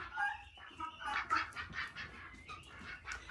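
Ducks and chickens at a farm, with several quacks and clucks overlapping at close range, a busy irregular chorus of fowl calls; no talking.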